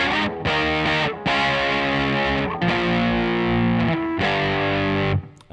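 Heavily distorted electric guitar plays a short riff of sustained, crunchy chords with brief gaps between them, loud and close.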